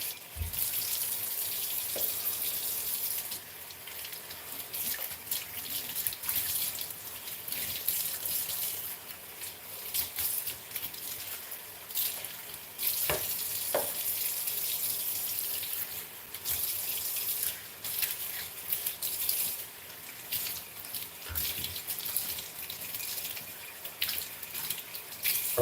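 Tap water running while rice is rinsed by hand, a steady faint splashing stream with small uneven clatters and bursts throughout.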